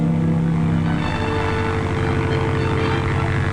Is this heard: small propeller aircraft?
yes